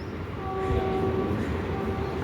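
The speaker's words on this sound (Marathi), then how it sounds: "इकडून आपले ठाणा लोकल येते" A Thane-bound Mumbai local train running on the track near Mumbra, a steady rumble with a sustained tonal horn-like whine, moderately near, no talk.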